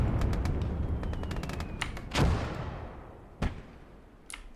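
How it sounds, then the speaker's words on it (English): Mortar rounds firing in the video game Gates of Hell: Ostfront, sharp booming reports at irregular intervals amid scattered distant battle noise, fading out toward the end. "we're gonna fire 1 round into the camp. Well, probably a couple with the heavy mortars, a couple with the light mortars"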